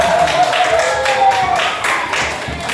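Students in a classroom clap for two groups during a coding lesson, a short burst of scattered, uneven hand claps close by, fading slightly toward the end.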